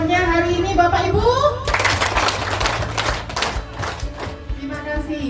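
Audience at a Satlantas Polres Buleleng traffic police community gathering claps hands in a steady, lively burst that begins after a speaker's voice and carries on beneath further talk.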